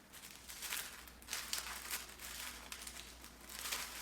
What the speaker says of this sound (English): So inside here, it's wrapped in tissue paper.